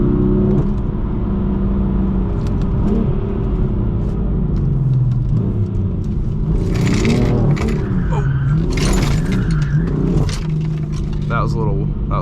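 A BMW M4 pulls out of a deep rut, its engine rumbling steadily throughout while the car rocks, scrapes and rattles, with loose objects clinking inside the cabin.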